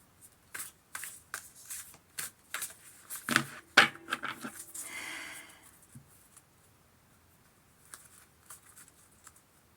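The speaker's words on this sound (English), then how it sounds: "I'm going to shuffle a little bit." Crisp riffling bursts of a tarot deck being shuffled, several quick shuffles in a row, then a softer sliding flutter before falling quiet.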